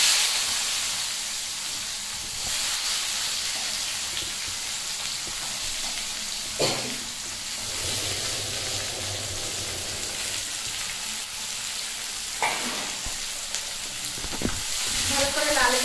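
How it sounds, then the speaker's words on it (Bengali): Chopped onions fry with cumin in hot oil, a steady close sizzle and hiss punctuated by occasional stirring clatters and scraping, no speech over it. "ভালো করে লাল করে ভেজে নেব পেঁয়াজ কুচি।"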